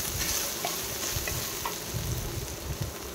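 Grated ginger sizzles in hot ghee, a steady close hiss and crackle with occasional soft stirring scrapes, no voices.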